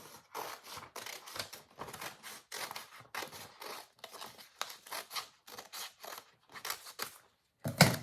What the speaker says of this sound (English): I'll take my scissors and I'll start to cut along the line.